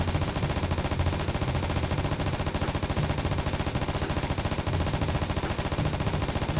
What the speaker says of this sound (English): So what I do is I fire through a magazine with my hand completely off the thumbstick.